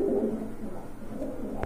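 Caged pigeons at a pigeon shop make a low, muffled cooing murmur, fairly faint and steady, ending with a brief knock.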